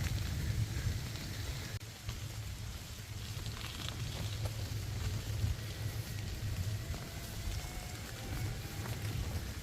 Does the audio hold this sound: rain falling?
yes